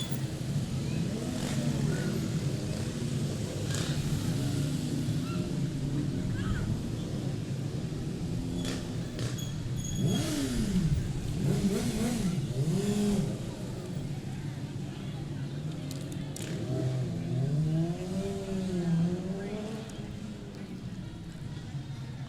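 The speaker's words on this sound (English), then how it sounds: "Most of these motorcycles with American flags" Motorcycles decked with American flags roll past in an Independence Day street parade, a steady engine rumble with occasional revving swells, heard alongside crowd noise and talking.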